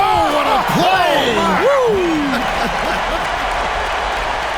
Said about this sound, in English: the crowd goes crazy after seeing that finish